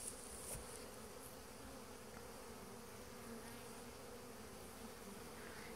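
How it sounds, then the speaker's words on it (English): A dense, continuous hum of many bees buzzing close by at a hive fitted with a robbing screen during robbing, steady and unbroken throughout with no voices. "they're already covered in bees"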